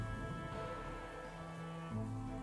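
Rain falls in the video game Trails in the Sky the 3rd, a soft, steady patter that stays faint beneath sustained musical tones for a couple of seconds.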